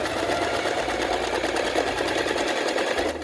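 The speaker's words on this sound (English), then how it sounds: "it feels like an absolute travesty to sew velvet with that side out" A sewing machine stitching velvet for a Star Wars Leia Endor commando costume runs at a steady fast whirring hum from start to finish, close and fairly loud, with no voices.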